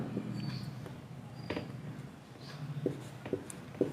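Chalk or marker writing on a classroom board, a few short scratchy strokes and taps spaced out, fairly close and moderate in level, with a low room hum underneath.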